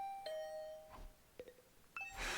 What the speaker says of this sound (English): Hearing the doorbell stubbornly ringing again and again, I finally got up.